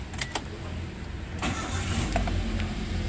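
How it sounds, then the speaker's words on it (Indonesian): A 2009 Daihatsu Terios TX manual SUV with high mileage cranks briefly and catches, then settles into a steady, close idle. "kita nyalakan mesinnya teman-teman."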